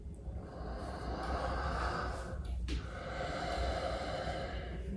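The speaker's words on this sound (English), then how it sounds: "So we add in that ujjayi engagement in the throat as if you were whispering. So you get an audible component to both the inhale and the exhale." Slow, steady whispery throat breathing of ujjayi yoga breath, an airy hiss through a constricted throat sustained across the clip with a brief pause near the middle, close and continuous, with no speech.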